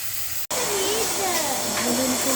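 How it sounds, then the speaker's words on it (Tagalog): Beef frying in a pan, a steady close sizzle and hiss running through the clip with a brief dropout near the start, while a faint voice murmurs in the background. "Piniprito ko nga pala muna yung beef."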